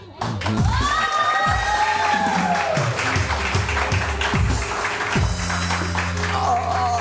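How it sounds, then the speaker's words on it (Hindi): Noisy studio audience on a Pakistani morning show, a mix of crowd cheering, clapping and shouts that runs loud and steady throughout, with voices and a host calling out over the din. "प्लीज़ तालियां बजाइए"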